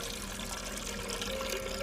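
White wine vinegar pours steadily into a container in an audio drama, a continuous close liquid splash and trickle running for about two seconds with no voices.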